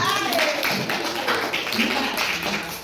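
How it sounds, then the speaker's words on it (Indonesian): Classroom applause for the top scorer of a Quizizz quiz, a few seconds of scattered hand claps and taps with a noisy room behind them and voices mixed in. "Beri aplaus untuk Jumyadin"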